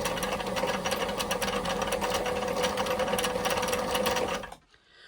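A Fashion Mate 257 sewing machine winds a bobbin with a steady, fast mechanical whir and rapid ticking, close and continuous for about four and a half seconds before stopping abruptly.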